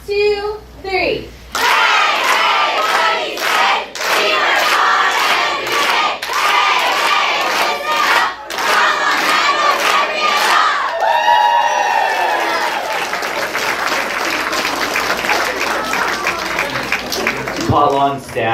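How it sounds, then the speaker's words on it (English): Potluck school staff at a Seguin ISD board meeting shouting a team cheer in unison after a spoken count-in: loud, rhythmic group chanting and yelling that runs for many seconds, ending with cheers and clapping. "we're going to end tonight with a cheer as well"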